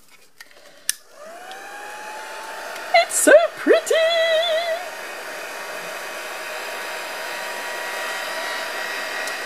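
A handheld heat gun blows hot air to dry paper in a craft setting. It starts abruptly and keeps up a steady loud whoosh, while someone talks and exclaims briefly over it.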